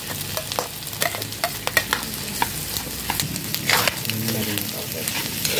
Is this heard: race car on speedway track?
no